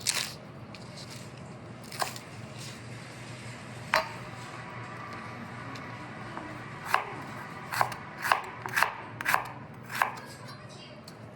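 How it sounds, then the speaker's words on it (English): Onions rough-chopped with a knife on a board, a few scattered cuts followed by a quicker run of sharp, close knocks. "I'm just gonna rough chop my onions here."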